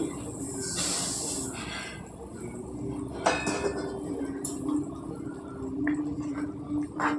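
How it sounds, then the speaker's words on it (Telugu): Semolina (rava) poured into a pot of boiling water for upma, a soft hiss and sizzle over a steady bubbling simmer, with a few light clinks of a metal spoon against the pan. "ఇప్పుడు రవ్వ వేసుకోవాలండి."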